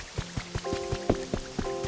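Rain patters in the Pokemon Pokopia video game, with soft drops tapping a surface alongside light melodic chime tones in a gentle, steady rhythm.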